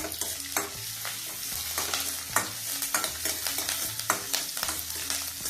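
Dry coconut, curry leaves and green chillies fry in a pan for masala khara pongal. A close, steady sizzle runs throughout, broken by repeated scraping strokes of a stirring spoon, with no talking.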